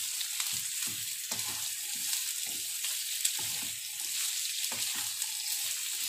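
Cut potatoes are stirred into lightly browned onions frying in a pan, giving a constant close sizzle with repeated scraping stir strokes throughout and no speech.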